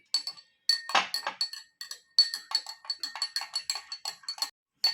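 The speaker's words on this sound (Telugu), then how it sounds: "add food color into glass of water and mix it properly." A spoon clinks rhythmically against a glass, quick repeated ringing taps close up as yellow food color is stirred into water, with brief pauses between bursts.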